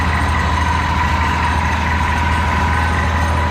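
A PNG generator engine runs steadily at low rpm, around 1100, with a loud, continuous, even drone and a low mechanical hum throughout, no voices.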